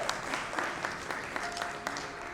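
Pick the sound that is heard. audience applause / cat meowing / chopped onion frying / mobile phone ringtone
audience applause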